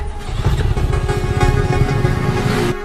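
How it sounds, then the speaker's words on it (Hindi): A motorcycle engine runs loudly and roughly close by, a continuous low throbbing rumble with a faint whine riding on top, cutting off abruptly near the end. "अरे इंजन में से बहुत आवाज आ रही है, अच्छे से चेक करना।"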